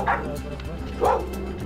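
A dog barks on a street in Leh market, two close, loud bow-wow barks about a second apart over steady outdoor background noise.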